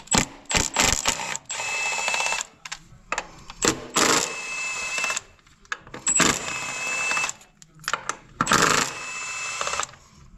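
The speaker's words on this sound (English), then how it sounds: "now we're gonna go ahead and get these 10 millimeters out" Ratcheting removal of 10 mm bolts from the coil pack area of a Toyota Corolla Hybrid during a 100,000-mile service, heard as several bursts of rapid metallic clicking separated by brief pauses, close and fairly loud.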